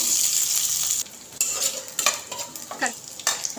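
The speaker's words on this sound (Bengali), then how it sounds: "এবার এর মধ্যে দিয়ে দিচ্ছি কাজু কিশমিশ। এটাও হালকা ভেজে নেব।" Cashews and raisins fry lightly in a pan, giving a steady close sizzle that runs throughout, with stirring scrapes and light clatters of the spoon against the pan.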